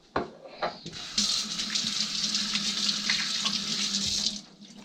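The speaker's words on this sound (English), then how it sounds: "Just rinse my hands." A kitchen tap runs while hands are rinsed under it, a close, steady splashing rush of water lasting a few seconds after a couple of brief knocks, with no talking.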